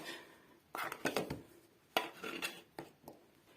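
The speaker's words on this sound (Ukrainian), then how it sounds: "І збиваю це масло гарненько" Soft room-temperature butter is beaten for mushroom-shaped cookies, giving bursts of scraping and clattering from the utensil against the bowl. The strokes are brief, irregular and close, with quieter pauses between them.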